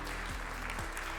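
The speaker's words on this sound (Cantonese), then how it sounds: "再次俾啲掌聲" Audience applause at an award ceremony for a STEM reward scheme, a steady, dense wash of clapping throughout, with a faint voice underneath.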